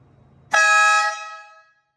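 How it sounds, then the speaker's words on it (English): A newly installed air city horn, mounted on a bracket, sounded once inside a garage: a sudden, very loud, brassy blast of about a second that rings out and then tails off into silence. "City horn has been replaced."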